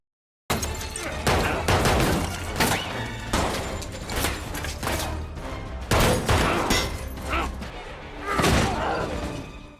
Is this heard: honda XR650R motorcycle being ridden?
no